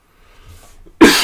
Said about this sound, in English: Sorry for coughing you guys out.